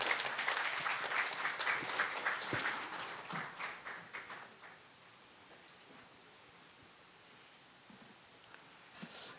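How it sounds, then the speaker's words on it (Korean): Audience applause at a maritime finance seminar in Busan, loud and dense at first, then thinning out and fading to scattered faint claps by the end. "큰 박수로 발표를 청해 듣도록 하겠습니다."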